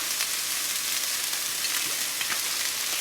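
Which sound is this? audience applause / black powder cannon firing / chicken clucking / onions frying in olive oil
onions frying in olive oil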